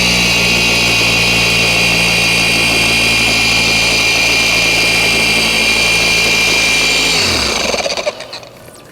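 A RUPES polisher on speed 2 spins a compound-primed pad against paint, a steady loud motor whine with a high tonal hum that holds for about seven seconds, then winds down and stops.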